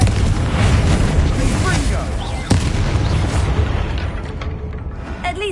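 The Confringo blasting spell in Hogwarts Legacy erupts as a loud, close explosive boom with a rumbling, crackling tail that fades over several seconds.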